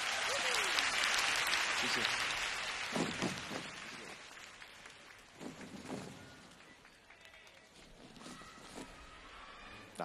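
Concert audience at a 2003 Hong Kong Cantopop show, clapping loudly in a sustained burst that gradually fades, with a voice talking over and after it.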